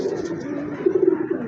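A female pigeon at a large pigeon farm gives a low, close, continuous cooing, with a slightly stronger burst near the end and no talk over it.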